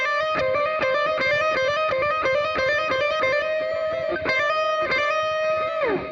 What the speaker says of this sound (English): So that's how I would practice a hammer-on.